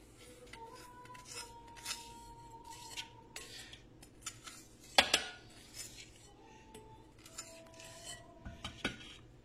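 Utensil scraping and clinking against the bottom of a pot of redcurrant jelly with sugar, sparse close scrapes and taps with one sharper clank midway, otherwise quiet.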